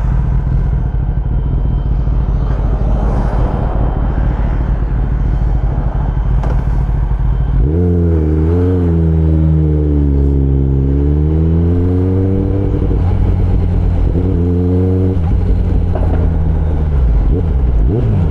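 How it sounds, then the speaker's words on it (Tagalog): A Kawasaki ZX10R engine runs by itself with the switch not turned off, first a low rough idle, then a revving, wavering drone for several seconds before settling again. "hindi ko binababa yung switch pero umaandar yung makina"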